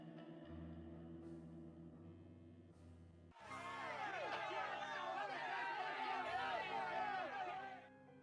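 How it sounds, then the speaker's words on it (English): A video game crowd, in Nancy Drew: The Final Scene, breaks into dense overlapping chatter after a quiet stretch of low tones. The murmur holds steady and fairly loud for several seconds, then fades. "Everyone, crowd noises"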